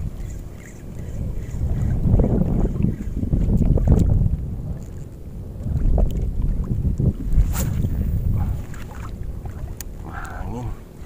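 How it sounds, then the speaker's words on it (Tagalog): Wind buffets the open water around a small fishing boat during net casting, a steady rumbling roar in surging gusts, loud and close to the microphone with faint lapping beneath. "Mahangin."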